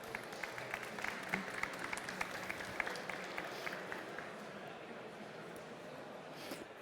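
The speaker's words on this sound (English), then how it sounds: "Let's have a round of applause for Ricky." An audience applauds a Formlabs speaker, Ricky Hopper, at a technical talk, the steady clapping of a sizable crowd sounding fairly distant and quiet, fading slightly toward the end.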